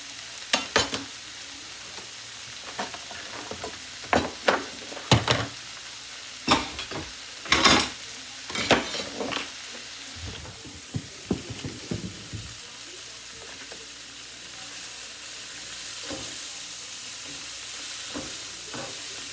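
Garlic sautés in a pan with a soft, steady sizzle, broken by scattered clanks and scrapes of stirring that come in irregular bursts before fading into quieter frying.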